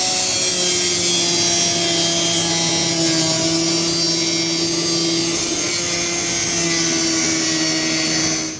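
A power tool trims fiberglass on a Suzuki M109R Intruder motorcycle frame, giving a steady high whining drone with sustained tones, loud and close, running unbroken before cutting off at the end.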